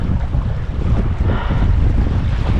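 Strong north wind buffets the microphone steadily while a small boat is paddled across a lake, a loud continuous roar with water wash underneath and no voices.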